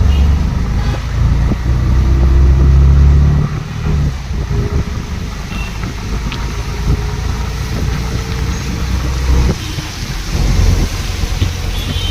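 Heavy rain pours steadily outdoors as a broadband hiss, with a vehicle rumbling at low pitch and brief bursts of passing traffic through the downpour.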